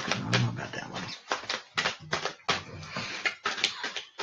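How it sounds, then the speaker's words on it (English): Tarot cards being shuffled by hand, with short crisp riffling bursts and soft taps in an irregular rhythm, close and moderately loud. "I'm going to keep shuffling"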